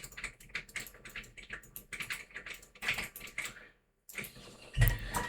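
Keys tapped on a computer keyboard while entering a website address, a quick irregular run of clicks with a short pause before a final burst, fairly close and at moderate level.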